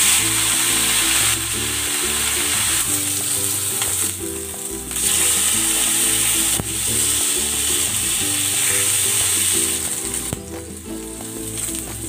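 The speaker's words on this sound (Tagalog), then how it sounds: "Ipan-grill ko muna itong liempo." Pork belly liempo, seasoned with salt, pepper and soy sauce, grilling in hot cooking oil in a pan, sizzling loudly and continuously with bursts of crackle and occasional utensil scrapes, no talk.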